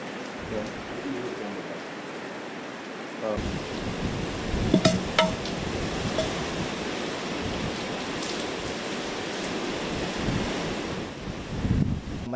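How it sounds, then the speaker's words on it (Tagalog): Strong Super Typhoon Nando wind and heavy rain in Cagayan, a dense, continuous roar of gusting wind and pouring rain, loud and close, with brief stronger gusts and some voice beneath. "Malakas pa rin nga itong hangin dito sa kinaroroonan namin at yung pag-uulan ay ayan, napakalakas pa rin"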